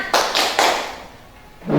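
A classroom of students claps out a food chain clap game, three sharp, evenly spaced bursts of hand claps close by, followed by a brief pause and the start of a voice.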